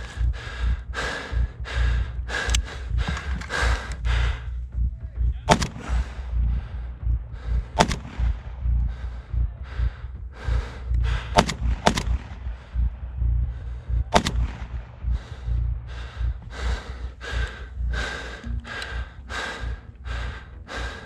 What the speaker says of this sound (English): guys were reacting to blanks incredibly well during that battle